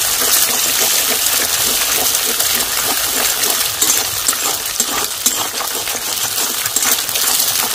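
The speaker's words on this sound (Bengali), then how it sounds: "ডিমটা এইভাবে ফাটিয়ে ঝুরঝুরে করে ভেজে নেব।" Beaten eggs sizzle loudly in plenty of hot oil in a pan for chicken fried rice, a dense, steady crackle with scraping and stirring clatter from a utensil throughout.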